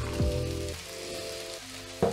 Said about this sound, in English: So we're going to add about a tablespoon or so of balsamic vinegar